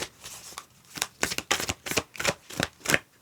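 Cards being shuffled close by, a series of quick riffling bursts in a steady rhythm, about eight snaps with short pauses between.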